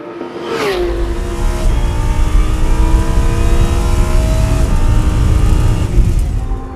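Race cars circling the Paul Ricard circuit in a ROSCAR race, led by the Arcadia team's Lamborghini, one engine screaming up through the gears nearby and rising to a loud sustained roar, with no talking.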